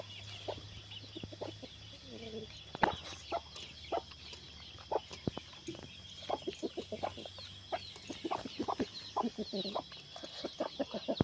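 Chickens at a single-family home in the forest near Maredumilli cluck in short, scattered bursts, with a rooster-like call and occasional sharp knocks, moderately close against a quiet background.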